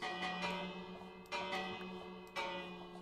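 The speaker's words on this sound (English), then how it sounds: "I hear a lot of bells." Bells in the Minecraft video game ring out in three struck tones, each with a sharp attack and a long ringing decay, spaced about a second apart over a low steady hum.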